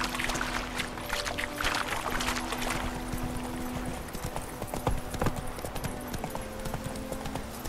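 Horse hooves clip-clop at a brisk gallop in the video game The Witcher 3, a rapid rhythmic drumming that stays up close and steady throughout with a faint steady tone underneath.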